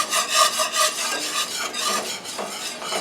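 Flour and liquid for a cheese-sauce roux being stirred in a pan, a continuous close, rhythmic scraping and rubbing with a soft sizzle underneath.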